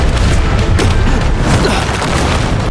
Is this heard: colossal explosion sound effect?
yes